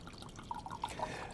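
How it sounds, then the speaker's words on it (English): Wine pours into a glass in a small serving, making a faint, close gurgling trickle with a few bright drips, heard without talking. "a 4 to 6 ounce is not a big pour. It looks something like this."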